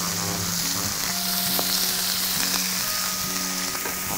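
Chicken and onion frying in a pan give a steady, close sizzle that runs unbroken throughout, with no talking over it.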